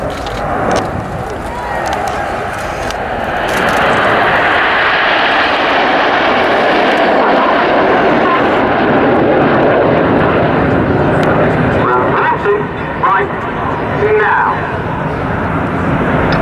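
Red Arrows aerobatic jets at the Cosford 2015 airshow roar past in formation, a loud sustained rushing engine noise that swells and slowly fades, with a commentator talking over the noise.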